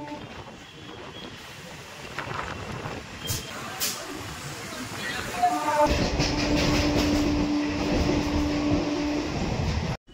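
A local train on the Howrah–Burdwan main line runs between Bally and Uttarpara stations with a steady rumble and rattling wheels, heard from on board. The noise swells louder and denser partway through before ending abruptly.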